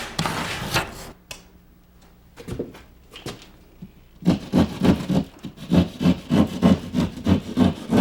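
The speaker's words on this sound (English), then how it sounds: "I trim to the outline with my utility saw, cutting out the damaged area" A utility saw cuts out a damaged area of drywall, with a few scraping strokes and pauses, then a loud, steady run of rhythmic back-and-forth sawing strokes close by.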